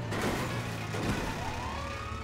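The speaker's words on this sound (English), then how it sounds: "I hear sirens." Police sirens wail steadily in a busy GTA 5 soundscape, a rising and falling electronic tone over constant background noise and rumble.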